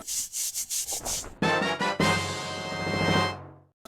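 Rhythmic scraping strokes of a video game shovel, like digging, followed by a longer grinding, gritty rush that fades out, with a game-like processed quality.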